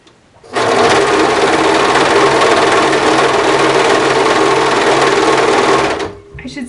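Sewing machine stitching the sleeve seam of a cardigan, a loud, steady, close mechanical whir running unbroken for about six seconds before stopping.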